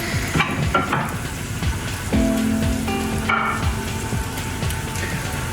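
Steaks sizzling in a frying pan, a loud, close, continuous crackle with scattered pops and a few clanks of the pan and utensils, no talking.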